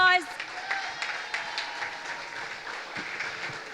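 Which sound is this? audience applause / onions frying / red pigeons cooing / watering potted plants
audience applause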